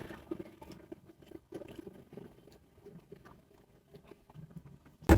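Crispy breaded fries being chewed up close, a quiet series of irregular crunching bites with a louder burst at the end.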